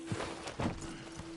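Horse hooves clip-clop at a walking pace in the video game Red Dead Redemption 2, a few soft hoofbeats with a faint steady hum behind them.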